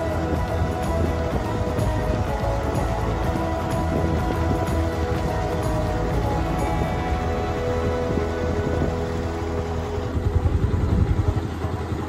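A motorbike runs at an easy pace along Mall Road in Nainital, its engine a steady, close mid-pitched thrum with a slight swell near the end, no voices over it.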